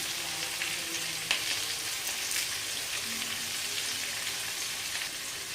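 Cumin and other whole spices with curry leaves frying in hot ghee for jeera rice give a steady, close sizzle with faint crackles, no voices.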